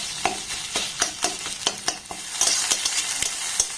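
An egg fries in a pan and is stirred into crumbly scrambled bits, with quick rhythmic scraping clicks from the utensil over a steady sizzle.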